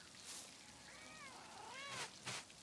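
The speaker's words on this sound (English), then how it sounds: "Oh my gosh, it's such a cutie cat." A cat in the video game Pentiment gives a couple of short, rising-and-falling meows, close and clear over a quiet ambient background with brief soft noise bursts.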